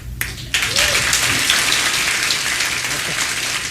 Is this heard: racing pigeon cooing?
no